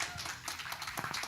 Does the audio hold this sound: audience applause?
yes